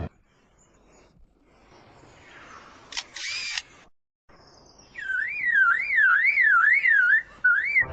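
A lyrebird mimics a car alarm and a camera shutter: a brief burst of shutter-like clicks, then a loud, close, warbling alarm-like whistle that repeats in a steady wavering rhythm over outdoor ambience.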